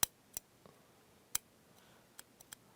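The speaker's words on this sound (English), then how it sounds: "So I'm just going to take my scissors and trim that off." Scissors trim the cord of a beaded bracelet or necklace, producing a handful of faint, sharp snips spaced irregularly in a quiet room.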